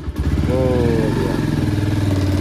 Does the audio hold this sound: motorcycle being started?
yes